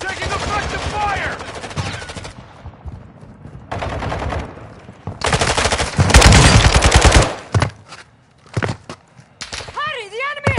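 Bursts of automatic gunfire from Call of Duty Warzone 2.0 gameplay, rapid rattling volleys separated by short pauses, with a heavy sustained barrage near the middle and game voice chatter in between.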